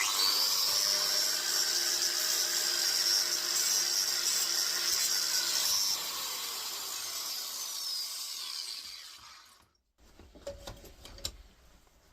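A cutting disc screams through an electric motor stator in a loud, sustained high-pitched grind that shifts in tone partway, then cuts off, leaving a short stretch of clattering handling noises.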